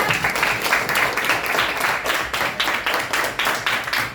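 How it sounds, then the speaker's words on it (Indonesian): Classroom group clapping for a team of students after a presentation on alternative energy, a fairly loud burst of many hands with a pulsing, rhythmic texture throughout. "tepuk tangan untuk kelompok 4"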